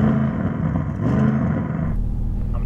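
An Audi RS6 engine revs loudly from close by, a steady deep rumble that rises slightly before dropping off near the end, with no talk.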